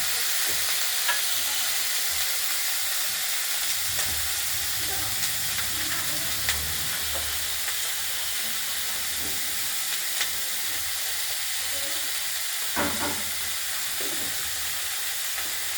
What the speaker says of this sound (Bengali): এবার এই তেলের সঙ্গে আমরা ফুলকপিগুলো দিয়ে দিলাম কুচিয়ে রাখা